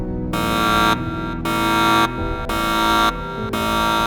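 A loud, steady electronic buzzing cockpit warning alarm repeats in long pulses with brief gaps, harsh and continuous, sounding as Helios Airways Flight 522 reached 12,000 feet.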